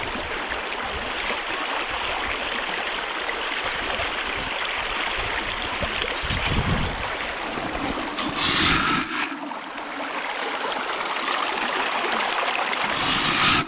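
Steady broadband rush of a flowing stream at a gold panning spot in the UK countryside, continuous and fairly close, with a brief louder splash or gush partway through and no voices.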